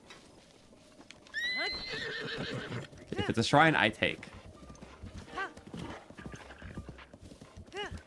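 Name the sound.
horse neighing and hooves clip-clopping in a Zelda video game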